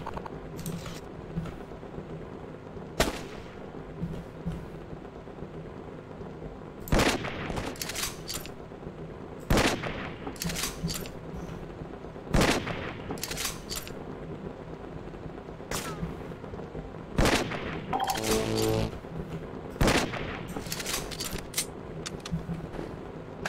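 Gunfire in Fallout 4: scattered single sharp shots ring out every few seconds, some heavier sniper-like cracks, over a low steady game ambience with no talking.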